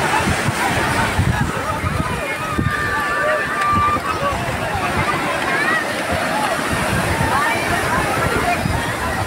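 Sea waves wash continuously on Chennai's crowded Marina beach, a loud broadband roar of surf and wind mixed with nearby chatter and voices of people throughout.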